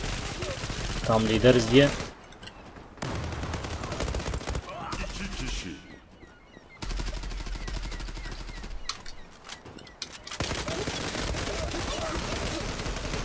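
Rapid bursts of gunfire in an online shooter game, including shotgun blasts, come in loud clustered volleys separated by short lulls, with someone talking at times.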